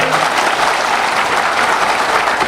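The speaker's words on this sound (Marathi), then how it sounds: "ही सर्व टीम जी आहे त्याकरता तुम्ही जोरात टाळ्या वाजवा" Loud, dense clapping from an audience at a diabetes patients' conference, applauding the organising team in a steady, continuous burst close at hand.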